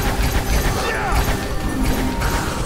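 Combat against tenacious fire beetles in the video game Neverwinter Nights 2: dense, continuous battle noise with clattering impacts and crashes layered over a loud, busy game soundtrack.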